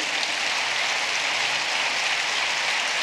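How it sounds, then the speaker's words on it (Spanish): A congregation at a Sunday communion service applauds, producing an even, continuous wash of many hands clapping with no break. "Denle otro aplauso"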